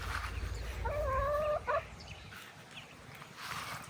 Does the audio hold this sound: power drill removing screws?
no